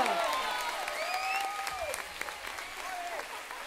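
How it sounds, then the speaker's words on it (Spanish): An audience applauds a music band at a cinema event, with steady, moderately faint clapping throughout and whistles and voices rising over it. "Ese fuerte aplauso para la banda de música, por favor."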